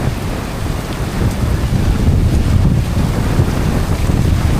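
Rain pours onto open water around a boat on the Great Loop, a dense, steady hiss and patter with gusty wind buffeting close to the microphone throughout.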